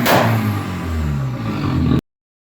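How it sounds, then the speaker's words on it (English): A BMW E46 with a turbocharged engine held on two-step launch control, a loud, rough, popping drone with harsh clattering pulses that holds steady for two seconds before cutting off abruptly. "here's a video of the 2-step"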